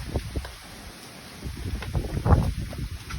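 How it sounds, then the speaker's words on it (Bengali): Wind from the Cyclone Remal rainstorm blows outdoors among trees in Kolkata, a rough, gusty rumble buffeting the microphone, rising and falling continuously with rustling over it. "হাওয়া দিচ্ছে।"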